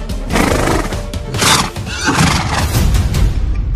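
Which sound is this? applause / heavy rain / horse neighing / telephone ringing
horse neighing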